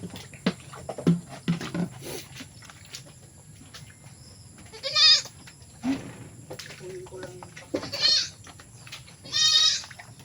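Several goat bleats ring out, wavering and fairly close, spaced a few seconds apart over a quiet outdoor background with faint rustling.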